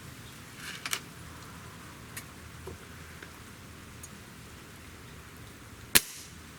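A single sharp crack from a Benjamin Trail NP XL .25 calibre nitro-piston air rifle firing near the end, preceded by faint small ticks over a quiet background.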